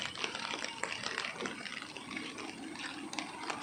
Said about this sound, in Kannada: ಇಂಚಿದು ಬರ್ಪಿನ ನೀರು ಪಂಪೆಲ್ಲ ನೀರು